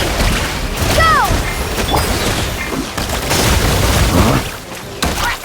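Bombs exploding in the game Genshin Impact, a series of booming blasts and crashes over several seconds amid combat effects, with brief character voices in between.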